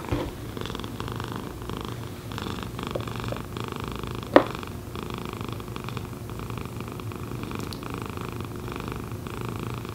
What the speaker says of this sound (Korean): 골골이 들려요?